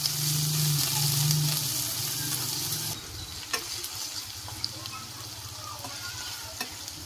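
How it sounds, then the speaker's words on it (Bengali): Chopped onions frying in oil in a pan, first with a loud, dense sizzle, then quieter crackling under stirring and occasional utensil knocks, close up, no talking. "এবার পেঁয়াজ দিয়ে দিচ্ছি তেলে পেঁয়াজটা নাড়াচাড়া করছি"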